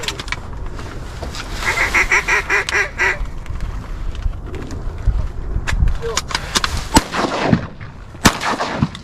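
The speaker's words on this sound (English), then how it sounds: "Nice shot, Nick." Shotgun blasts ring out during a duck hunt over decoys on a private farm, several sharp loud reports scattered through the stretch, with honking geese or ducks calling and hunters talking nearby.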